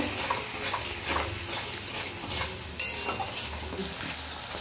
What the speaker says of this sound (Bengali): তো এটা দিয়ে আমি খানিকক্ষণ কষে নেব।